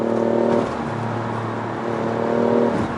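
A 2019 BMW i8 Roadster on a highway test drive, heard from inside as a steady engine hum with tonal drone that eases off briefly and then builds again under acceleration, no talking.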